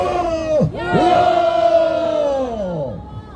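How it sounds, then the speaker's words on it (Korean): A crowd at a political rally outside Seoul City Hall roars back in unison, a loud, brief burst of massed shouting voices that rises, holds and fades. "소리 질러."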